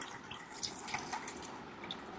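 Water splashing and dripping as a face is washed with room-temperature tap water over a sink, a steady close wet patter with a few brighter drips and splashes, no voices.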